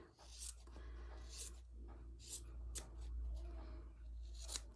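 Scissors snip through fabric scraps for a kawandi-style quilt, several crisp close cuts spaced over a quiet room, faint and intimate.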